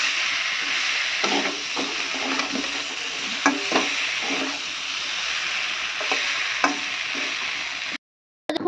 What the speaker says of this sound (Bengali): মশলাগুলো ভাজা হয়ে গেল।